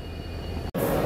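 An Indian Railways express train rushes past at speed, a loud roaring wash of wheel and air noise broken by a sudden brief gap, heard close from a station or passing train.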